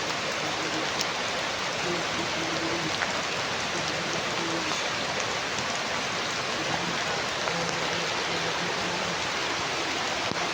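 Heavy rain pours down in a dense, constant hiss that fills the whole stretch, with a faint low hum under it and no clear voices.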